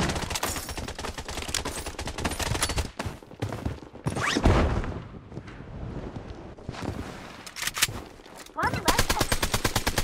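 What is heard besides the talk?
gunfire in Blood Strike video game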